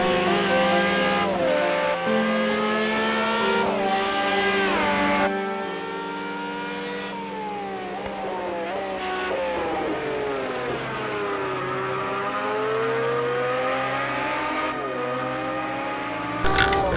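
A 1988 Jaguar XJR-9 Le Mans race car with a 7-litre V12, on track at Donington. It screams loudly through repeated rising and falling gear changes, fading briefly, then building again, with occasional tyre noise.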